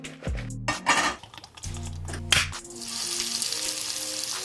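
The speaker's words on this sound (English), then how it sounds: "Throw it in the pan on the stovetop with some olive oil" Food fries in olive oil in a pan on a stovetop, building to a steady, bright sizzle after clattering pan and utensil knocks and clinks; close and moderately loud, with no speech.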